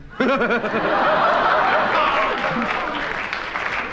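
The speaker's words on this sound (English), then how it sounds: "shame on you lot for clapping" A studio audience at a radio panel game breaks into sustained clapping mixed with laughter and chuckles, beginning suddenly and continuing under a voice.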